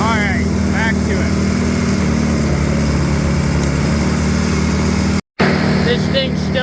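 An overheating tractor engine drones steadily while mowing a field, loud and close throughout, with someone talking over it.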